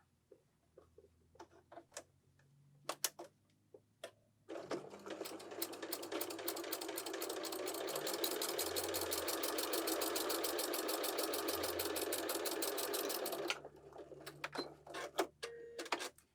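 Sewing machine running a quarter-inch seam along one side of a quilt block for half-square triangles, a steady rapid mechanical whir lasting about nine seconds, with faint clicks and handling noises before and after.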